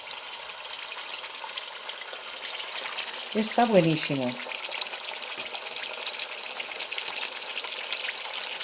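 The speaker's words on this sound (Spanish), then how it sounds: "Empiezo a poner el lomo en la sartén" Pork loin frying in hot oil in a pan for a Spanish home recipe gives a steady, close sizzling hiss throughout, while a voice briefly speaks partway through.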